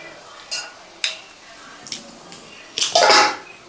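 A spoon scrapes and clinks in a pan as tomatoes are stirred into curry leaf chicken. Four or five separate close taps are followed by a louder, longer swishing stir at the end.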